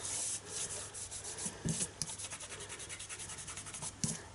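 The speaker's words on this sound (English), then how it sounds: "Rub away any glue that I've got on the wrong side" Close, steady rubbing of a fingertip over a paper Christmas card to lift off stray glue, a continuous dry scratchy friction in quick repeated strokes with a few sharper scuffs, no talking.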